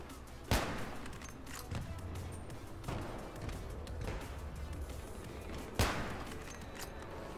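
Gunfire from the player's weapon in Battlefield 3 multiplayer, Rush mode on Operation Metro, with a few sharp, loud shots standing out over a dense, continuous battle din of distant fire and noise.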